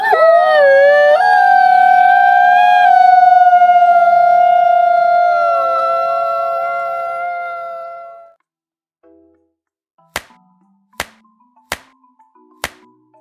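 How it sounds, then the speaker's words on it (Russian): A wolf howls once, long and loud, its pitch sliding slightly before fading out after several seconds, followed by a few sharp, isolated clicks in near silence. "Это волк. Послушай, как он воет."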